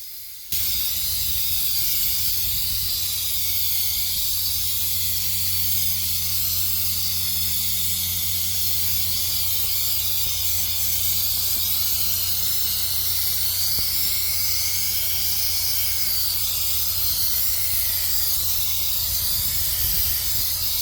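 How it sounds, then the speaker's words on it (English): Rag Company Ultra air tool spraying tire dressing onto a wheel with the product valve opened wider, a loud steady hiss of pressurized spray running continuously and close, no voices. "I've opened up the product valve to allow more dressing to come through"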